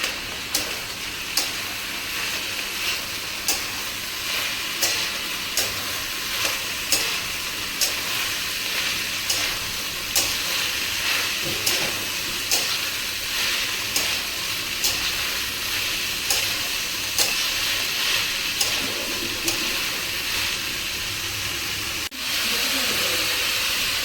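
Rice pumpkin fries in a pan with salt and turmeric, giving a continuous soft sizzle and steam hiss broken by regular light taps and scrapes of stirring.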